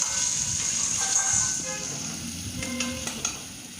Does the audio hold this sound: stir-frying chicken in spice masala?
yes